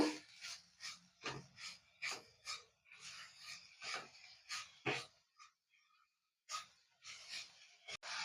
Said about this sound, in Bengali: সেই চিনি পেস্টটা দিয়ে দেব চার চামচি একটু নাড়া দেব